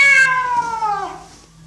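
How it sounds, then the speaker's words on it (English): A domestic cat gives a single drawn-out meow that slides downward in pitch, close and clear with nothing else behind it, in a children's animal-learning setting. "Cat. Do you have a cat at home?"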